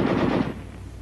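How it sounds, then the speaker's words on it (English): A short burst of automatic small-arms fire, a loud rapid roll of shots that cuts off after about half a second and leaves a fading echo. "Weapons giving automatic fire will fire continuously as long as pressure is applied to the trigger"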